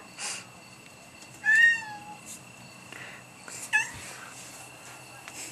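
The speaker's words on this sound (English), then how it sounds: "Aw, that's a cute meow." A cat meows twice nearby, a long drawn-out meow followed by a shorter one, with quiet rustling in between.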